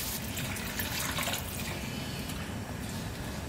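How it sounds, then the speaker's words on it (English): Water poured into a pot of shrimp and potato curry, a continuous rushing splash heard close but at low level, with no talk over it. "What we need to do now is to add water."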